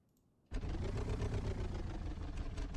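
Piper Cub J3C-65 engine in Microsoft Flight Simulator starts abruptly after a quiet moment, then settles into a steady loud idling rumble, close and continuous with no talking.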